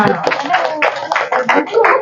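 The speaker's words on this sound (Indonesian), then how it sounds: "Tepuk tangan teman-temannya." Classmates in a classroom clap after a group presentation, a steady run of close, rhythmic hand claps with voices mixed in beneath.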